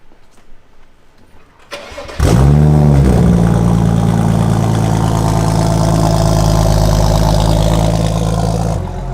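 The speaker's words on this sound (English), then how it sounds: "I'm gonna rev a concept car." A BMW 3.0 CSL Hommage R concept car engine cranks and roars to life, then holds a loud, steady throaty rumble close by for several seconds before easing off.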